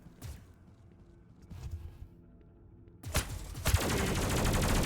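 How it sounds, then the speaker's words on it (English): Chain gun in the video game Aquametsis: after a few dull thuds, a loud, dense stream of rapid automatic fire starts and runs on without a break to the end. "Oh, there's like a chain gun."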